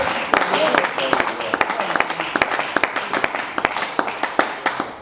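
A church congregation claps together in praise of Jesus, a steady run of sharp, close hand claps with voices underneath.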